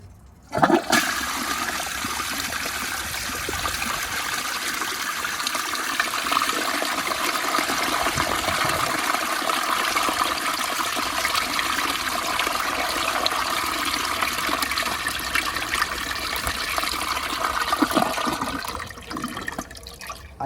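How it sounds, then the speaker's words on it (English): An American Standard Space Saver Cadet toilet flushes with the handle held down, giving a loud, sustained rushing gush of water lasting nearly twenty seconds before tapering into a gurgling refill, with no talk. "I hold the handle down for the entire flush."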